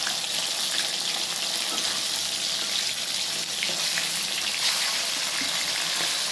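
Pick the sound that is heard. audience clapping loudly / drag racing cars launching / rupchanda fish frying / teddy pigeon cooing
rupchanda fish frying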